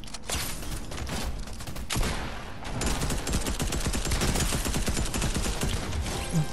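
Rapid gunfire and explosive blasts from grenades in the Doom video game, dense and continuous with loud bursts throughout and no talking.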